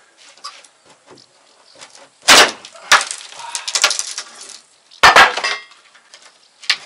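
Small pieces of wood dropping in an attic during window replacement work, giving several sharp clattering impacts, two clusters of loud knocks amid lighter rustling and tapping, close by.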